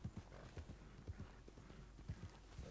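Hooves of a horse galloping in Red Dead Redemption 2 Online clop in a quick, steady rhythm, close but fairly quiet over a continuous background rumble.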